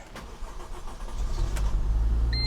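A car engine being started for the first time, with a short cranking whir that builds into a low, rumbling run, close by and without talk.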